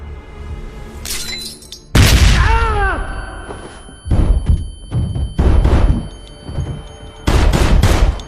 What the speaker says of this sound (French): on a entendu des coups de feu